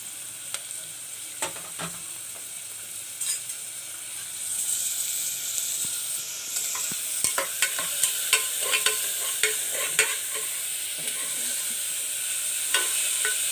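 Onions sauté in hot oil with cloves and cardamom for a kaadai (quail) gravy, giving a steady sizzle with repeated close scraping and clinking strokes of a spoon stirring the pan.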